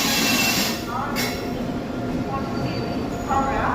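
Train running on rails, hauled by a WAG-9HC electric locomotive with ICF coaches: a close, continuous rumble and clatter with a brief high squeal, under a person speaking.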